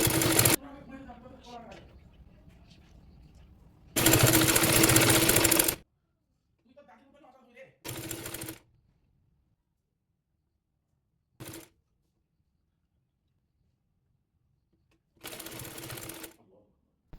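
Sewing machine stitching a baby dress in short separate bursts of a few seconds each, with quiet gaps between them and a voice speaking in between.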